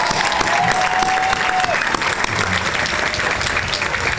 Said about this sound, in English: Will we give them a round of applause?